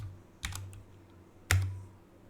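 Keys struck on a computer keyboard while writing an HTML header tag, heard as two short bursts of clicks about a second apart, the second louder, over a low steady hum with no talk.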